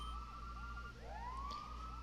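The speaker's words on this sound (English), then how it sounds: "there's an alarm going off, and it has been going off for, like, a long time now" Pokémon Colosseum video game alarm: a wailing electronic siren whose pitch sweeps upward in a repeating cycle, faint and continuous over a low background drone.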